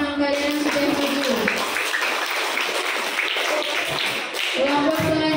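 Students in a classroom clap for classmates who have just presented group work, a busy patter of many hands that rises and continues for several seconds, with a voice heard briefly at the start and end.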